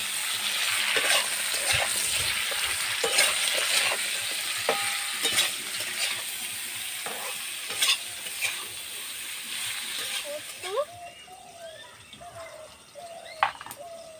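Pointed gourd (potol) frying in hot oil, a steady close sizzle and crackle running throughout, with occasional scrapes and clinks of a utensil stirring in the pan; toward the end the frying quiets and small clinks stand out.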